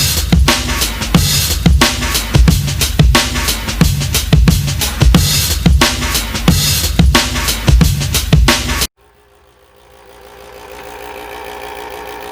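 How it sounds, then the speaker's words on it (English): Free VCR tape rewinder running loudly on a table, a rough rhythmic mechanical whirring and clattering that pulses steadily, then cuts off abruptly into a quiet hum. "that is the VCR rewinder that was free."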